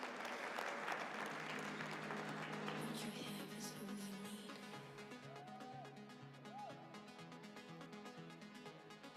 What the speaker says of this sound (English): Please give them a huge round of applause as they come on stage.